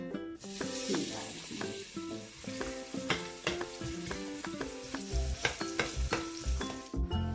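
Onions sizzle and crackle in hot oil with steady frying hiss, broken by frequent scraping and stirring clatters close by.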